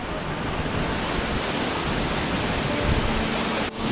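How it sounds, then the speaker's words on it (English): A powerful waterfall in the Philippines roars as a dense, steady wash of rushing water, loud and close with no pauses, and no voices over it. "even though the waterfall looks very, very powerful"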